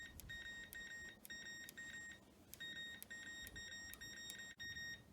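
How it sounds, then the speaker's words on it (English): Whirlpool appliance under repair testing, a faint electronic beeper repeating short rapid bleep groups in a steady pattern over low background noise. "You can hear the little thing beeping and all."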